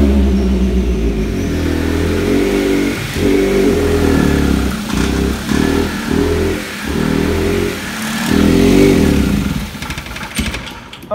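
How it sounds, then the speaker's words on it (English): A 2.0 Duratec engine in a Ford Mondeo Mk3 that is hard to start and cannot rev up is held at full throttle. It drones loudly and unevenly, surging and sagging in rough pulses before faltering toward the end. "I'm flat out on the throttle."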